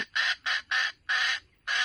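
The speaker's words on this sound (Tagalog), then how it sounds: "pagka yung pinarinig ng manok, labuyo" A harsh, raspy bird call repeats in five quick bursts with short gaps, loud and close, like a junglefowl cry played back through a speaker.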